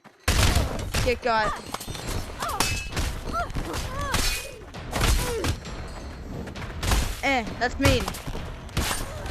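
A nail gun fires in the VR game Blade and Sorcery Nomad: rapid, loud, sharp bursts of shots with thuds and clattering impacts, mixed with excited talking and shouts throughout.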